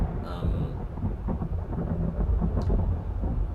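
Thunder sound effect in the horror game Beherit, a low continuous rumble rolling on throughout with faint rain-like hiss, heavy and steady.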